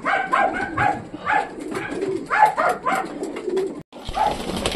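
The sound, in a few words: pigeons cooing while being fed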